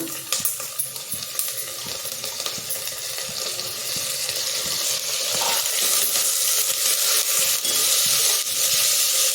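Rice, peas and carrots going into a pan where methi leaves and onion are frying for pulao, with crackling sizzle, stirring scrapes and a watery hiss that grow louder and fuller partway through, no talk.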